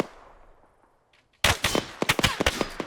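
Burst of rifle gunfire in the military shooter game Arma 3, distant shots from a town. A quiet lull gives way to a sudden loud volley of sharp, repeated cracks that keep going to the end.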